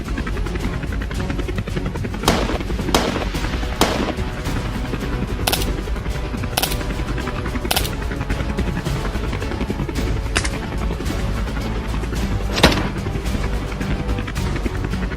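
Gunfire rings out from aircraft culling wild boar in open landscape, with repeated sharp bursts and single shots spread irregularly over a constant heavy rotor drone.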